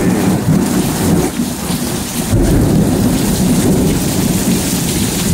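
A close lightning strike in a major Lufkin, Texas thunderstorm sends loud, heavy rumbling thunder over a steady downpour of rain, with a sharp burst near the middle; no talking.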